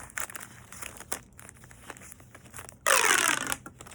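Packaging from a fidget toy box is handled and cut open, with soft crinkling and rustling followed by a loud, close burst of plastic tearing and crackling near the end.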